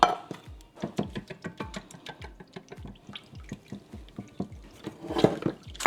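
Water from a can is poured into a pan of cream of mushroom soup, giving close, uneven splashing and gurgling with rapid irregular drips throughout, louder near the end.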